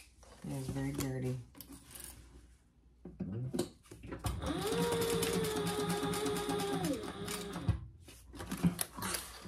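A sewing machine stitching a 90-degree turn at the turning hole of a fabric car trash can, a short run of close mechanical whirring between pauses, with a voice talking before and after.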